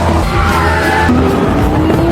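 Porsche race car in a racing film braking hard into a turn, loud engine drone giving way to a rising squeal of tyres, continuous and close throughout.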